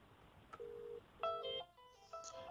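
Fermax KIN 1455 Meet IP video intercom system emitting calling tones: a short beep, a sustained steady tone, then a rapid sequence of stepped electronic beeps and chimes, clear but fairly quiet in a hushed room.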